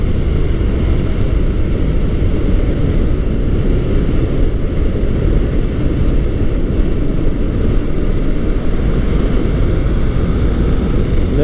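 A Honda ST1300 Pan European V4 sport-touring motorcycle cruises along back roads, with a loud, steady engine roar blended with rushing wind noise and no talking.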